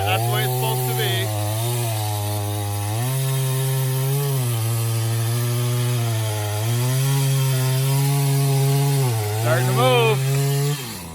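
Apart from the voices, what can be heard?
Craftsman chainsaw cutting silver maple tree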